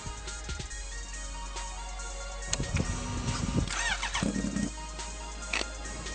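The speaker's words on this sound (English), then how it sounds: "This is my new custom supercharged Kawasaki Ninja H2." A custom supercharged Kawasaki Ninja H2 motorcycle cranks and fires up, its engine catching around the middle and running rough and close with uneven bursts of revving.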